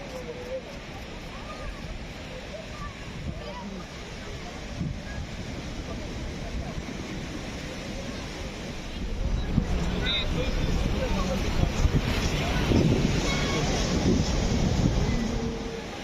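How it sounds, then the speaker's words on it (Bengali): Sea waves wash steadily on the beach at Puri on a crowded morning, a continuous rushing surf with wind buffeting the microphone, swelling louder in the second half. "সকালবেলায় প্রচুর পর্যটক এসে ভিড় জমিয়েছে এই সমুদ্র সৈকতে"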